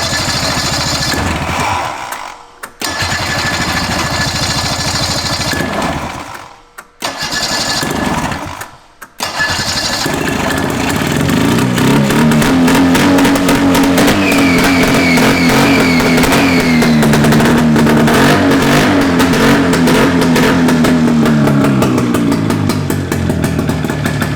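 An old abandoned snowmobile engine, sitting unused for 20 years, cranks in short bursts broken by brief silences, then catches and runs with a loud, rough, steady drone and some revving.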